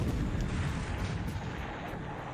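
Torpedo hits and explosions in a naval video game set at the Battle of the Marianas, heard as a heavy sustained rumbling boom that fades slightly over a couple of seconds.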